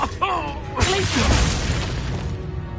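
Glacius ice spell shattering in a Harry Potter video game: a sudden bright crash and burst of crackling ice after a brief voice, trailing into a dense hiss that fades over a couple of seconds.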